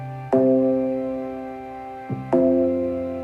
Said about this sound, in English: Bring back our synth.